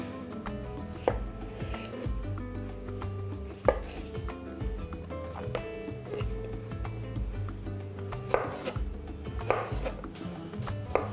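A knife chops fresh mini cucumbers into sticks on a board, the close, crisp knocks coming in steady bursts of rhythmic strokes with short pauses between them.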